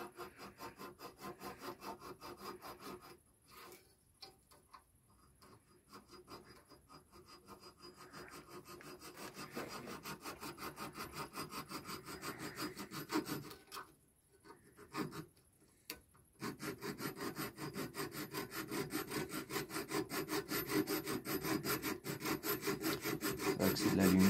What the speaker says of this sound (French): On a la scie, mais on n'a pas le manche.